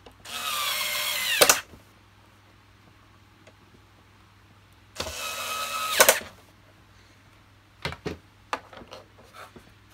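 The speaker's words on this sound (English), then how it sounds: "Holding that in while I tighten these screws up." A power driver tightens screws during reassembly of a Hoover Purepower U3450 vacuum cleaner, with two sustained bursts of whirring followed by a few short clicks and taps, close and fairly loud against a quiet room.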